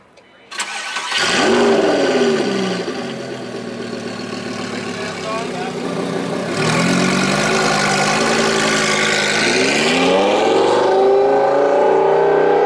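A Lamborghini race car engine fires up with a sharp bark, settles into a rough idle, then swells into stronger revs and rises again near the end, loud and close.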